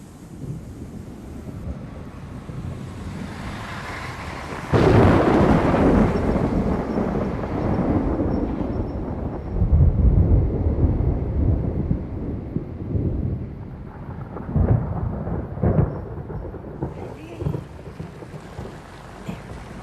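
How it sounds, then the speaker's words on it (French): A storm closes in with deep rolling thunder and gusting wind buffeting the microphone, swelling loudly around five seconds and again near ten, with rain hiss underneath and no voices. "La tempête se rapproche."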